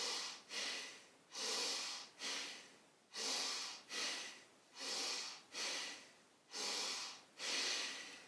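Bhastrika pranayama, a forceful yoga breath, comes as a steady series of about nine strong, rhythmic breaths through the nose, each a loud rushing puff evenly spaced, close up with no talk.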